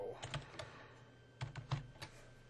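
Quiet keystrokes on a computer keyboard as a comment is typed, a few scattered taps followed by a quick cluster of clicks, close and soft over a faint steady hum.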